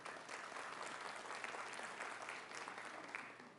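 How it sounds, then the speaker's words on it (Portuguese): A church congregation applauds, a dense, steady wash of many hands clapping that holds evenly for a few seconds at moderate distance. "aplauda ao Senhor."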